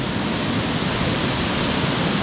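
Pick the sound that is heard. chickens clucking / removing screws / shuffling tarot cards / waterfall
waterfall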